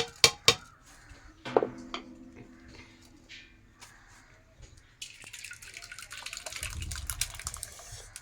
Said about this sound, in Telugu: పప్పు రుబ్బుకుంటాం అయిపోయింది ఫ్రెండ్స్. వేరే గిన్నెలో తీసుకుంటాను.